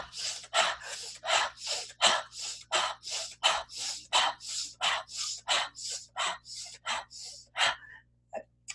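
Rapid breathing exercise with sharp inhales through the nose and exhales through the mouth: around twenty close, evenly spaced forceful breaths in a steady driving rhythm, ending in a brief quiet pause.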